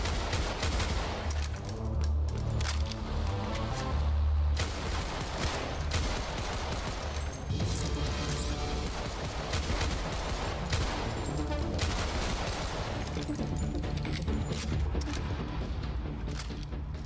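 Loud bursts of AGM-9 burst-weapon gunfire from the Decaying Winter video game fire repeatedly in quick volleys with short gaps, alone and without talking.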